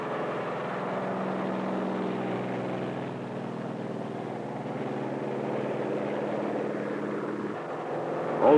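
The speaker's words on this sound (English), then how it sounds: "Also taking off from the carrier are control planes that will guide the radio-controlled drone boats." Aircraft engines drone steadily from the deck of a carrier as control planes take off to guide radio-controlled drone boats, a continuous loud propeller roar with a slight swell near the end.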